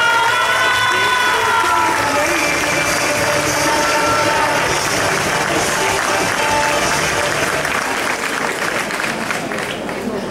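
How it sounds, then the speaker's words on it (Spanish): Live audience at a Majas de Ateca event breaking into loud, sustained applause, dense crowd clapping with some cheering that holds steady throughout. "Un aplauso."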